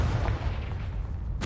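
A Confringo blasting spell in Hogwarts Legacy bursts with a single dense, booming explosion that fills the moment loudly and cuts off abruptly at the end.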